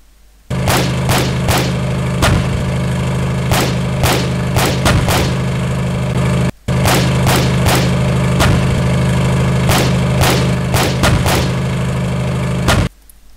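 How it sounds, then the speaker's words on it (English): Sharp gunshots crack repeatedly over a steady mid-pitched vehicle engine drone in a sound mix, the shots arriving in irregular bursts, some close together, loud and clear above the engine, which cuts out briefly midway and stops near the end. "You have the clear definitions, you have the gunshots and everything standing above the audio of the of the engine."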